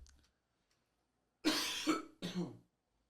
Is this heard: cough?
yes